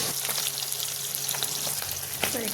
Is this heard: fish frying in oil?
yes